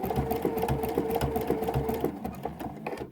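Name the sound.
sewing machine stitching quilt binding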